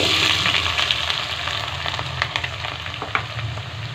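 Steady sizzling of garlic and onion frying in hot ghee for aloo methi, with occasional crackles and stirring scrapes, close and fairly loud.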